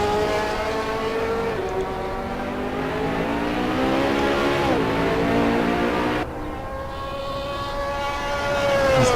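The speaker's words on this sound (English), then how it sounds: "Peter van Vuuren driving the Trigon tooling-backed Ferrari 458 Italia" A Ferrari 458 Italia racing around Silverstone in a sim racing game, its engine note climbing and falling through gear changes, loud and close for the whole stretch with no talk over it.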